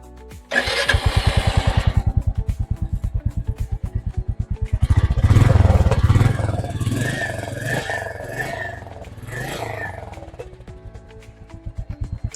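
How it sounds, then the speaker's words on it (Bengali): A Royal Enfield Meteor 350 with its 349 cc single-cylinder engine cranks and fires, then settles into a steady, deep, close thumping idle from the exhaust, with a few blips of throttle in the middle. "এখানে ইঞ্জিনটা অন করে আপনাকে এক্সজস্টের আওয়াজটা শুনিয়ে দিই।"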